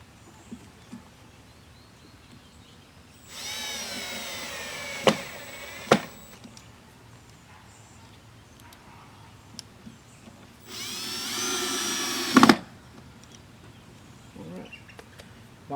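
A power drill drives screws to mount a waterproof electrical box for a GFCI outlet, in two loud sustained whirring bursts of a few seconds each, the first ending in sharp clicks and the second in a final knock, with quiet gaps between.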